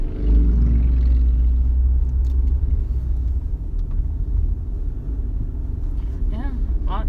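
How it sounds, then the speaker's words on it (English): Road traffic as cars pass: a deep, loud engine rumble that slowly fades, with a faint voice speaking toward the end. "a lot of traffic, but it's at the time of day"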